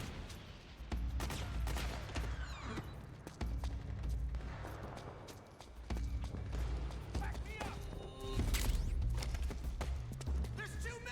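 Video game gunfire from Metal Gear Solid 4 crackles in repeated bursts of shots amid battle noise, with voices talking over it.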